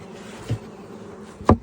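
Low honey bee buzzing hums faintly in the background at a hive, with two brief louder buzzes as bees pass close by.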